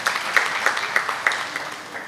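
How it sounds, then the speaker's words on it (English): Audience applause at a chartered accountants' institute talk on ChatGPT and AI tools, a steady crowd clapping with a few sharper claps standing out, fairly close and sustained. "I think a big round of applause for each one of us to come forward."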